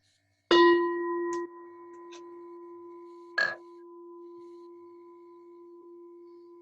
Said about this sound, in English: and then we'll have the bell.